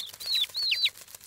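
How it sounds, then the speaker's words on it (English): Hungry baby birds in a cartoon nest chirp in a few high, rising and falling cheeps, close and fairly clear over a quiet background. "Those baby birds look hungry."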